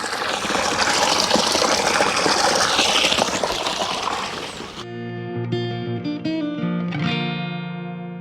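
A column of water pours into a garden pond over an underwater light, a dense steady gush for the first half before cutting abruptly to a quiet stretch with sustained musical tones.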